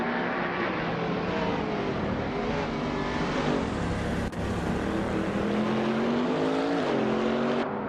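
A 1995 Marcos LM 600 GT2 race car engine roars continuously in a racing video game, its tone rising and shifting as revs build and fall, loud throughout.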